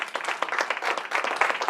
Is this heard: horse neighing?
no